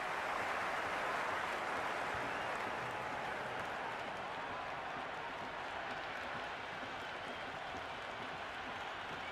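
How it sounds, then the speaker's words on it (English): Broad, steady roar of a stadium crowd in the Cricket 26 video game, cheering a big hit during an India versus Afghanistan semi-final match. The sound stays dense and unbroken throughout, loudest at the start and easing slightly later. "The crowd is electric right now."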